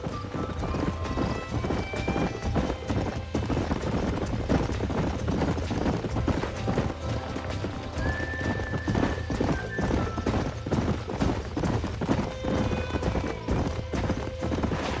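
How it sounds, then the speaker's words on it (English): Horses in the video game Red Dead Redemption, with loud, continuous hoofbeats at a gallop and several whinnies and neighs over the top, heard mostly on their own with little talk. "These are fine horses."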